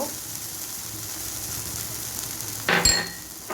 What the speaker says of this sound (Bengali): এভাবে নাড়তে থাকবো কিছুক্ষণ